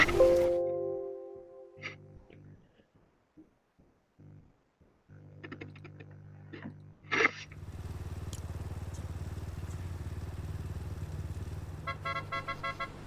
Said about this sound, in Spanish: Hostia, ahí lo viene con la moto.